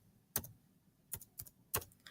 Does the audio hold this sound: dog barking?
no